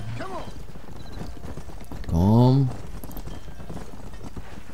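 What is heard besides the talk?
horse hooves galloping while herding cattle, Red Dead Redemption video game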